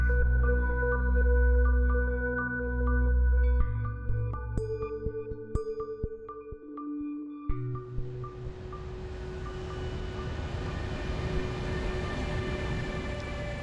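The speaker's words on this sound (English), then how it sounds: "le train en provenance de Berlin entre en gare de Budapest" Train from Berlin arriving at Budapest station: low rumbling and sustained tonal hums and squeals of rolling stock, shifting pitch as it slows, then a broad steady roar of the station and carriages; no speech.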